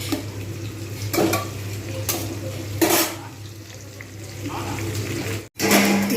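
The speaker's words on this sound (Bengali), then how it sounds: "বেশ কিছুক্ষণ সময় নিয়ে এগুলো কিন্তু ভাজতে হবে আঁচ কমিয়ে বাড়িয়ে যাতে পেঁয়াজগুলো পুড়ে না যায়" Onions frying slowly in a pan for chicken curry, with a steady sizzle under repeated scraping and clattering stirs of a utensil against the pan, close and fairly loud.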